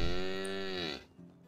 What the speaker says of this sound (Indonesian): Sapi lu berisik banget.